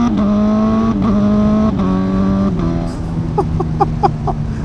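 A 2025 Honda CB1000 Hornet SP motorcycle engine revs in steady pitch steps, rising and dropping with a throaty exhaust note, then settles into a lower, popping idle.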